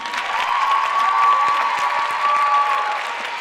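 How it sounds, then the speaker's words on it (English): Loud applause and some cheering fill the hall at an Indian dance recital for the parents in the audience, dense clapping that holds steady throughout over a sustained ringing tone. "Those of you in the audience who are parents who have faithfully driven your children to dance classes over the weekends also deserve a round of applause."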